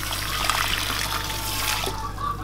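Boiled water pours into a pan for a flaxseed strawberry pudding, a steady close trickle and splash lasting a couple of seconds before thinning out.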